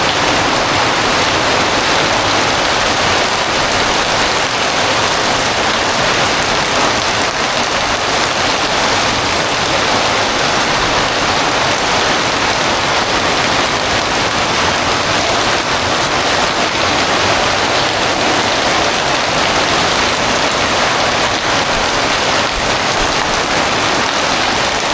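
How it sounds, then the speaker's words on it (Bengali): Torrential nighttime rain pounding on a house roof, a dense, loud, unbroken roar of water that holds steady throughout with no voices. "তো মুষলধারে বৃষ্টি হচ্ছে।"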